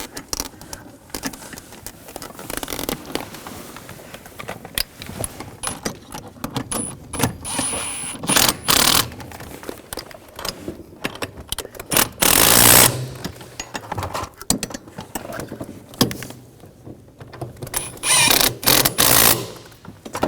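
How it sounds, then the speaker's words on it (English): Metal clicks and ratcheting of a wrench tightening the master cylinder nuts on a 2009-2013 BMW 328i xDrive 3.0L L6, in irregular bursts, fairly close, with no talk. "And take the two nuts, get those started, tighten those down."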